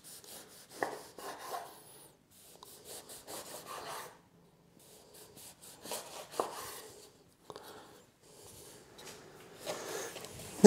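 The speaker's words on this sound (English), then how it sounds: "Now I've cut the panettone up to little wedges" A knife slices a panettone into small wedges, giving soft rasping, rubbing cuts in short bursts with pauses between strokes, close and fairly quiet, with no talking.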